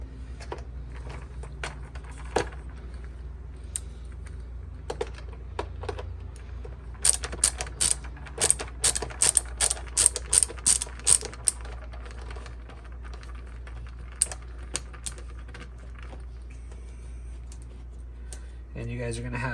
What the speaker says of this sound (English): Take our handy dandy screwdriver.